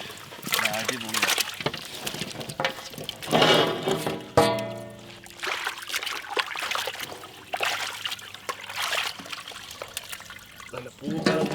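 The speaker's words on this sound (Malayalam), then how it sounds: "നല്ല വെള്ളത്തിലൊന്ന് കഴുകി വെക്കാം." Water trickles and sloshes steadily as dried fish is washed by hand in a village kitchen, a continuous close splashing with a voice heard faintly underneath.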